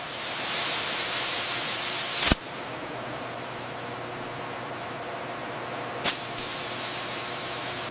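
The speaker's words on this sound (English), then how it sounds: "The precision-machined titanium components of the LAU-117 missile rail undergo their final wash in" A steady industrial spray wash hisses over precision-machined titanium parts of a LAU-117 missile rail, a continuous loud broadband rush, broken by two sharp clanks, with no one talking.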